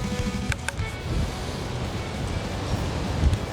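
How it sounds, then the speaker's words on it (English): Strong wind roaring and buffeting the microphone outdoors, a steady low rumble with a couple of faint clicks. "Wow, that's windy."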